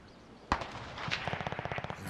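Rapid automatic gunfire from the Warzone video game: a sharp single shot followed by dense, rhythmic bursts of close, loud shots with no talking.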